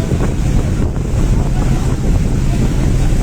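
Sea waves wash around a boat at sea, a loud, continuous rush of water with heavy wind buffeting the microphone and a low rumble underneath.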